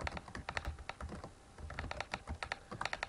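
Rapid typing on a computer keyboard during a Quizlet Space Race game, a steady run of close, crisp key clicks with brief pauses and no talking.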